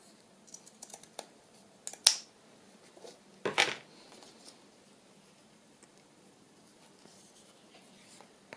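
Scissors cut paper while a wedding journal is decorated, two quiet, close snips a second or so apart amid faint rustling and handling noises.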